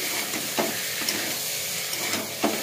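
Fried cauliflower added to a hot pan, a dense steady sizzle close up with a few soft stirring scrapes at regular intervals.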